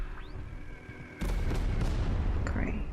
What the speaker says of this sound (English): Let's do an order and airstrike like this.